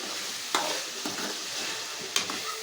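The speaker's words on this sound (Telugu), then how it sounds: "ఒకసారి కలుపుకుందాం." Drumstick and tomato curry being stirred in a pan, a soft continuous sizzle of cooking with a couple of sharp scrapes and clinks of the spoon against the pan, close and quiet, no voices.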